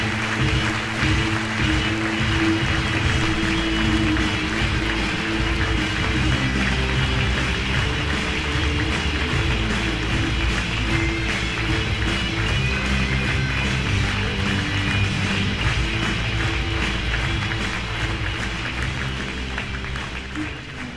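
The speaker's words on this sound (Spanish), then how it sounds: "Por favor, denle la bienvenida con un caluroso aplauso." Dense, sustained applause fills a hall at a Swiss liberal institute's award ceremony, a large audience clapping loudly and evenly for about twenty seconds before easing slightly at the end.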